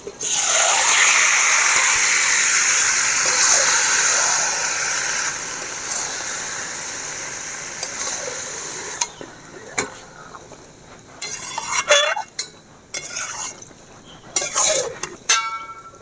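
Marinated chicken hits hot fried spices for a chicken curry made with raw papaya juice, setting off a loud, steady sizzle that slowly eases, followed by scattered clinks and scrapes of a spoon stirring in the pot.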